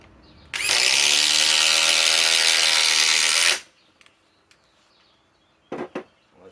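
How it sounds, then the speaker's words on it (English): A DeWalt XR DCF845 impact driver on a 5-amp battery drives a 4-inch TimberLok screw in one loud, continuous, buzzing hammering burst of about three seconds, then stops, followed by a few faint clicks and two brief knocks. "Dewalt XR DCF 845 with another 4-inch timber lock, 5-amp power stack, still charged."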